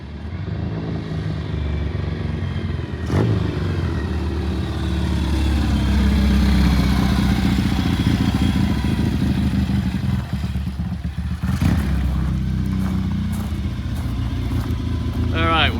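Gold motorcycle running on gasoline during a test ride, its engine droning steadily throughout with a couple of sharp clatters, while people talk over it.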